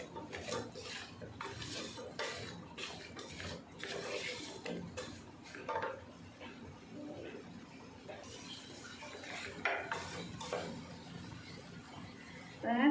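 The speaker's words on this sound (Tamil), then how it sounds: "இப்போ வந்து நான் உருளைக்கிழங்கு போட்டுக்கிறேன்" Unpeeled potatoes tumble into a cooking pan with clattering knocks and scraping stirs of a utensil against metal, fairly quiet and close, with irregular bursts of activity.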